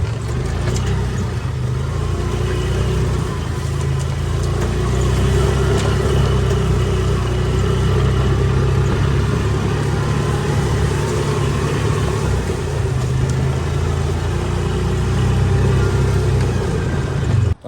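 A worn Polaris four-wheeler in four-wheel drive crunches over thick gravel, its mid-pitched engine droning steadily and close for the whole stretch with no one talking.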